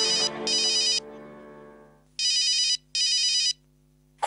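An electronic telephone rings in a household TV drama scene, two quick bursts, then after a pause two more even bursts, loud and alone with a faint hum between.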